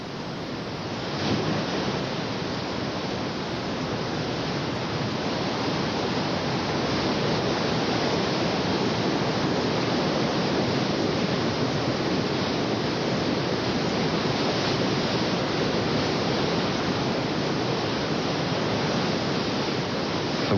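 Big river rapids roar as one dense, constant rush of water, loud and unbroken with no voices.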